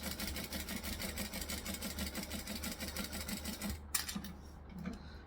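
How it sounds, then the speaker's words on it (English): A sewing machine stitches a tea towel topper in a steady, rapid mechanical chatter for several seconds, then stops with a few clicks and a brief rattle; no one speaks. "I'm going to stitch and back stitch just because I had to jump a little bit"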